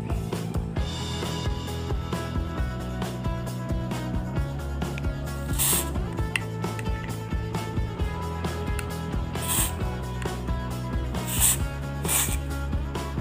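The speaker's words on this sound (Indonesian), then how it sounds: "terus kita semprot dari lubang ini ya teman-teman ya" Cleaner sprays in short hissing bursts into a hole in a chainsaw carburetor, close up among clicking, ratcheting mechanical handling noises.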